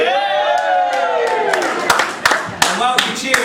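Wedding guests cheer, whoop and clap together in a lively crowd, with sharp claps popping out of a steady roar of voices near and loud.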